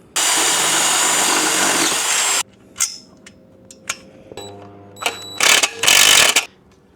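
A power drill bores loudly and steadily through a metal rack on a camper for about two seconds, then stops and gives way to scattered clanks and knocks of metal and tools.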